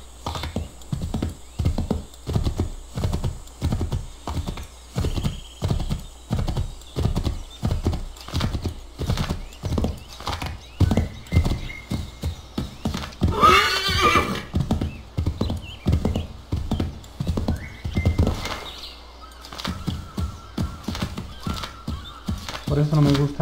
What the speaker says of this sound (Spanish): Vamos a llevarnos este caballo